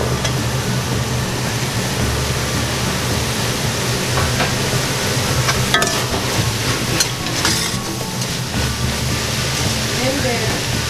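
Carrots tumble into a pot of lentil soup and are stirred: continuous scraping and swishing with a few sharper knocks and clatters midway, close and fairly loud.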